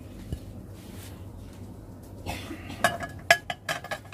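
An opal glass plate gives a couple of sharp, bright clinks as it is set down and handled, close and fairly quiet, with soft handling rustle between them and no talking.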